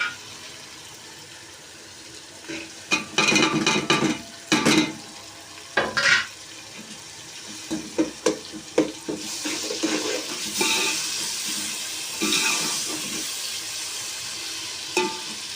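Tomatoes, chilies, tamarind, nigella seeds and salt cooking in a pan, with intermittent stirring scrapes and clatter over a soft, steady sizzle that grows denser in the second half.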